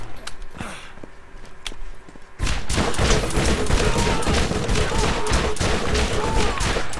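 Gunfire in the video game Borderlands: a few isolated shots over quieter ambience, then a sudden dense stretch of rapid, continuous firing and impacts that stays loud and steady to the end.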